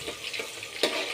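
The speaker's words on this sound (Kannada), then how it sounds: "ಇವಾಗ ಒಗ್ಗರಣೆಗೆ ಹಾಕ್ತಾಯಿದ್ದೀನಿ." Chopped onion sizzling as it drops into hot tempering oil, with a steady frying hiss and a sharper burst of spitting crackle near the end, close and moderately loud.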